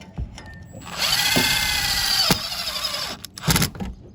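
A handheld power drill drives screws while a roof fan is installed in a work van, a whining motor running for about a second and a half between short clicks and knocks, close and fairly loud.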